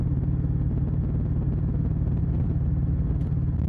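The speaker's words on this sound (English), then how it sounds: "And the sound of the engine." A motorcycle engine drones steadily on an empty road at night, a close, even, low rumble that carries on with no break and no voices.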